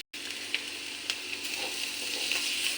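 Ingredients sizzle in a pan while being fried for semolina pulao, a steady hissing fry with a few sharp stirring clicks, close and moderately quiet.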